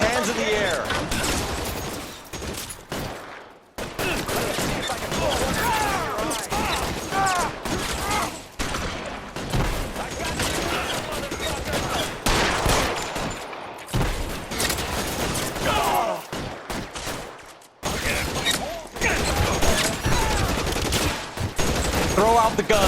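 Dense, sustained gunfire in the video game L.A. Noire, with rapid bursts and overlapping shots that continue almost without pause, loud and close, with voices shouting over it.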